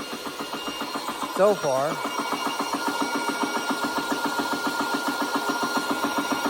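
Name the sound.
Umarex air compressor running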